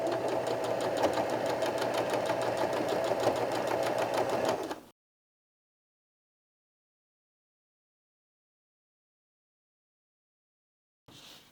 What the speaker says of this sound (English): I'm going to get sewing.